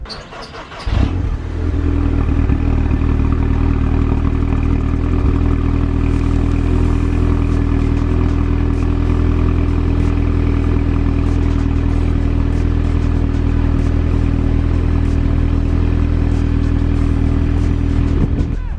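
An abandoned Audi TT taken from a scrapyard, its engine catching and then idling loudly and a bit unevenly, with a steady low drone and slight clattering that runs close to the microphone for the whole stretch.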